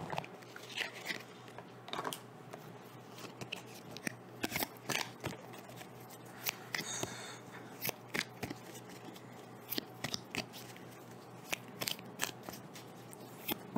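Tarot cards shuffled by hand, a crisp run of quick riffling and snapping bursts scattered irregularly through a quiet room, close and fairly soft, with no talk.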